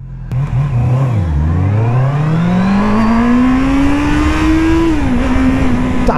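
Honda CB650R motorcycle revving hard with no rev limiter, a loud close inline-four wail whose pitch dips, then climbs steadily and holds high before easing slightly, with no audible cutoff.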